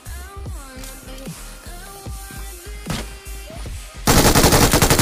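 Automatic fire from an MG3 machine gun in BGMI crackles in short separated bursts, then gives way to a loud continuous roar of rapid shots at the end.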